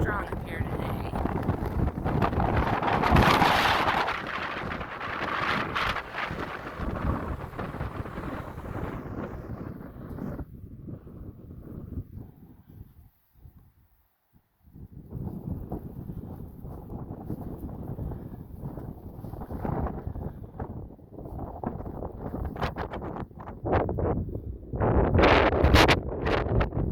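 Strong gusting wind buffets the microphone high on the Rio Grande Gorge Bridge, a loud continuous roar that drops briefly to near quiet before surging back, with no speech over it.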